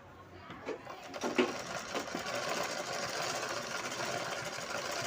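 A sewing machine runs in a fast steady whir as it stitches a blouse hem, with a few thumps at the start before the even motor drone settles in, fairly quiet and without speech.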